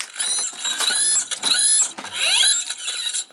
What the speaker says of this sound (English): you do have a locking mechanism for the fingers, and that is this right here